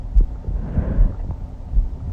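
A drum-like heartbeat thumps in a gallery, deep low beats repeating in a steady, metronome-like pulse over a soft humming background.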